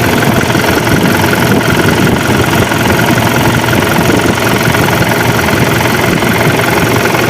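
A Mitsubishi Canter Euro 4 truck's diesel engine idles loud and close, a constant rumbling drone with a steady rattling texture and no talking.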